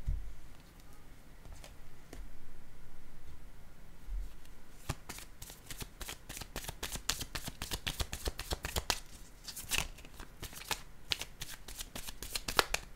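Tarot cards being shuffled by hand, starting with a few scattered taps, then a long run of rapid, close crisp riffling flicks that continue steadily to the end.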